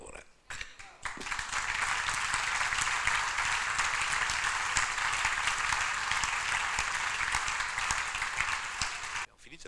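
Sustained audience applause after an art and music event, dense clapping rising quickly and holding steady for several seconds before cutting off abruptly.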